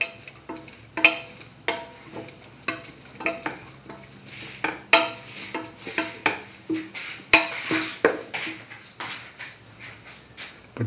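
A spoon stirs broccoli and potato stew with mustard in a pot, giving repeated scraping, clacking strokes in an uneven rhythm against the pot, close and clear with no talk.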